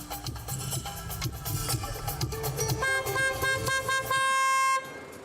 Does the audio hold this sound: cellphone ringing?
no